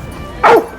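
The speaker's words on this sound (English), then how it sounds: "Is he barking at the horse?" A dog gives a single sharp bark at a horse, loud and close, after a quiet lead-in.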